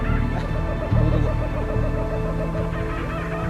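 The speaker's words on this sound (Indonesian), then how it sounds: "lu dengar suara burung nggak sih? Cuma, kok suara burungnya kayak orang ketawa ya?" Birds calling on Mount Ceremai give a repeated, chuckling, laugh-like clucking close by, with a low rumble of background noise throughout.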